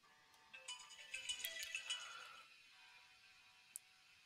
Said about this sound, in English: that's my phone going off.